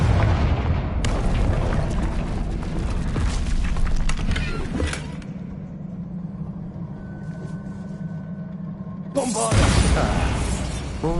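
Explosive Confringo spell blast in Hogwarts Legacy, loud booming bursts with crackling debris and rumble, a second blast erupting near the end.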